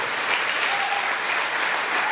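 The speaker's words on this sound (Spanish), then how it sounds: "Denles aplauso fuerte al Señor" Congregation applauding during a Spanish-language Christian church service, a continuous, even roar of many hands clapping with no voices on top.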